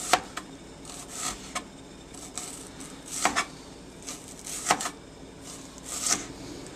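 Knife slicing spring onion into thin slices on a board, a series of soft, irregular chopping taps spaced across the clip, fairly quiet and close, with no talking.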